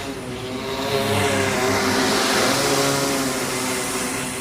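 Black Asteroid T3 drone on a ZD680 carbon frame with 5010 motors flying past outdoors, a steady multi-tone propeller whine that rises in loudness toward the middle and stays fairly close, with a faint low hum underneath.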